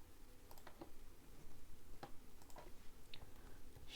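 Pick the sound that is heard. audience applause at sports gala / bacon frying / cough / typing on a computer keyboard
typing on a computer keyboard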